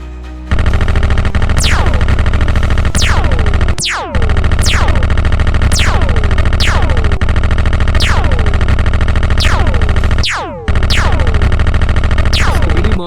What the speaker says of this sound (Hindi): मॉन्स्टर्स लगातार फायरिंग कर रहे हैं